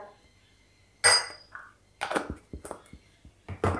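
A spoon scraping and clinking against a bowl while stirring fuller's earth (multani mitti) into a face mask, several sharp close taps and scrapes with short pauses between.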